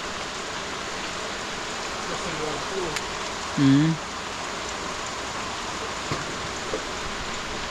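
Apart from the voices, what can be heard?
rain falling outdoors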